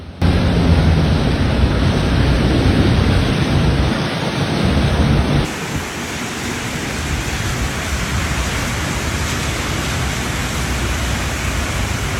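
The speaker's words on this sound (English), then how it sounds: "heavy rain and lightning began to increase" Heavy rain pours in a dense, steady roar with a thunderstorm over it, loud and unbroken throughout, the sound thinning slightly partway through but never letting up.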